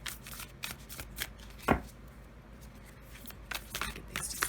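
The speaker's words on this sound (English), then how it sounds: "Get these just shuffled a little bit more." Tarot and oracle cards being shuffled by hand, a run of soft, quick riffling and slapping bursts close up, fairly quiet with brief pauses between handfuls.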